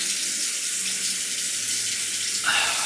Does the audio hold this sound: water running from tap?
yes